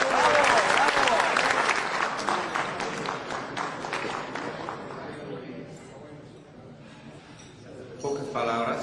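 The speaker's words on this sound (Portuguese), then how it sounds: "Un aplauso, por favor." An audience greets a guest speaker with applause: loud, dense clapping at first that thins and fades over several seconds, leaving a quiet gap before a voice comes in at the end.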